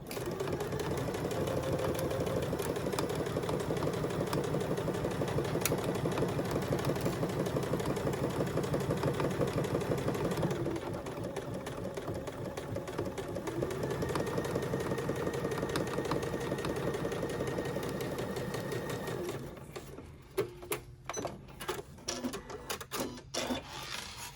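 A sewing machine whirs in a fast, steady run of stitching a zipper in place, pauses briefly, runs again, then stops amid a few clicks and handling noises.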